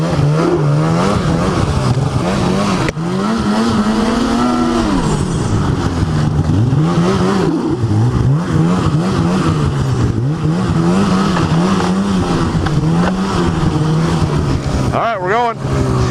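A Polaris Assault 800 snowmobile engine roars close by in snow, revving up and down in repeated surges that hold steady and loud throughout, with a brief dip and a sharper burst near the end.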